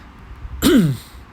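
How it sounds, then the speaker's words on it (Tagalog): A single sharp cough, close and abrupt, rising out of near silence and fading quickly. "Ngayon pa na ubo"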